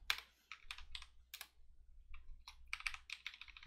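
Bursts of quick keystrokes on a computer keyboard, clattering in short clustered runs with brief pauses between them, close and fairly quiet with no speech.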